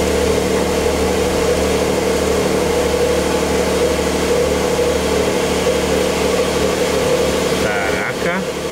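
A Porsche 911 idling in normal driving mode with its original exhaust gives a steady, deep, even rumble that holds throughout, with a brief clatter near the end.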